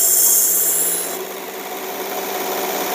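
A knife edge is ground on a belt grinder, giving a steady, close, harsh rasping hiss that eases slightly partway through, with no talking.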